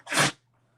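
A single sharp sneeze, close and fairly loud, followed by near silence.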